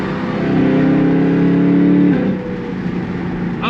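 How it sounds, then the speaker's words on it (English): A BMW E92 M3 engine revs loudly and close, its tone climbing steadily before dropping back to a lower idle-like drone, with no talking over it. "this is the most beautiful engine that BMW has ever made."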